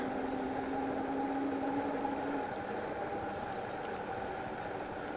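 Velotric Summit 1 electric mountain bike motor running on throttle only, a steady mid-pitched electric whine with a constant hum and road rumble, no voices.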